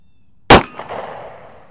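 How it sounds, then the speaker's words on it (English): A single sharp metallic clang as a bullet from a snub-nosed .357 Magnum revolver strikes a small steel gong, followed by a ringing tail that fades over about a second. "Little gong."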